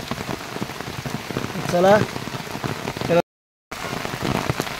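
Steady rain patters on surfaces outdoors near a temple village path, a dense close hiss under brief talk, cut by a short dropout before resuming.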